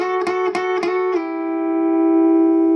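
A few quick plucked guitar notes with sliding pitch, then one note held and ringing out clearly, played alone with no talking.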